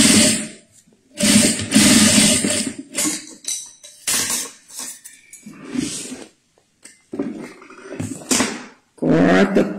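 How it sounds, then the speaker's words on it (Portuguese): A sewing machine stitches a half-centimetre seam on a synthetic fabric pouch, running in several short loud bursts separated by brief pauses. "Aí a gente vem aqui e vai passar uma costura aqui."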